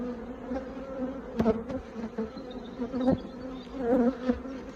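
Honey bees being put into a Flow Hive make a dense, steady buzzing hum, close and moderately loud, with a few sharper knocks and shifts in the swarm's drone.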